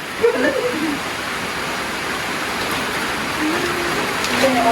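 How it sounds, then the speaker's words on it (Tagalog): Steady, heavy rain hisses continuously during a power outage as a dense wash of noise, with brief faint voices or sounds surfacing now and then. "Ang lakas po ng ulan dito"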